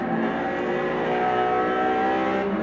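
Aston Martin Vanquish V12 engine in the racing game Test Drive Unlimited, droning steadily and loudly at high revs throughout, with no talk over it.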